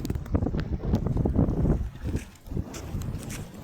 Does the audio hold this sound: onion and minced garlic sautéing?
no